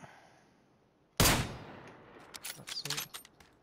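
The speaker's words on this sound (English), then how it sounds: "I shoot him" A single sharp gunshot from a video game rings out, followed by fainter clicks and game noises, moderately loud against a quiet background.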